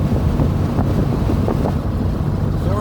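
A 1969 Porsche 912 cruising in fourth gear at 3,000 RPM and 50 mph, a loud steady engine drone heard from inside the car with heavy wind rush and no talk.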